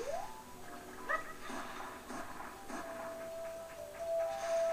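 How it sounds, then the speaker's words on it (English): Game sound effects from Zelda: Ocarina of Time on the N64, with a Deku enemy's brief chirping calls, a few soft thumps and a long steady tone near the end, all at moderate level with no talk. "I just hear an Octorok. Oh no, it's a Deku."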